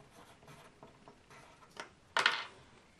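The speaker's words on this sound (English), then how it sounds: "I'm going to write that down." A pen scratches briefly on paper while jotting down a thermometer reading, a few soft, close strokes, then a louder rustle or tap near the end; quiet with no speech.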